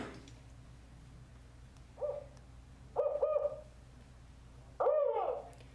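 Male northern spotted owl in Marin giving its deep four-note hoot, three short hooted bursts spaced about a second apart over quiet outdoor background, the last one loudest.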